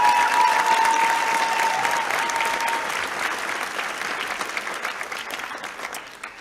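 An audience at a 2022 graduation ceremony applauds after film arts degree handovers, with dense sustained clapping that swells at first and then slowly fades out, with a faint whistle-like tone early on.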